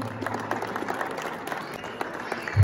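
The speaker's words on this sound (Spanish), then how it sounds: "Ahora sí, fuerte el aplauso entre todos." A crowd claps at a miniature rooster show in Mexico, a loose scatter of applause at moderate distance lasting a few seconds.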